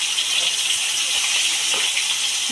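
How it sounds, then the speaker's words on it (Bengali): Eggplant slices fry in hot oil with a steady, bright sizzling hiss close by, and small pops and crackles scatter through it. "তেলের ভিতর বেগুন দিয়ে দিচ্ছি।"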